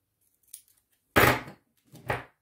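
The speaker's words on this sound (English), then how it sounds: "so I am going to cut this." Scissors cutting paper for a planner layout: a faint snip, then two louder crisp cuts close by, separated by short silences.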